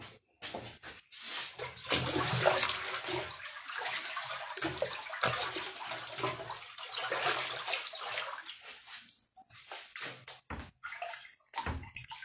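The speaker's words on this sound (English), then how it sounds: "Rinsing the spade." A spade is rinsed under running water while making moonshine, a steady splashing gush with sloshing that carries on for most of the stretch, broken by short pauses near the start and end.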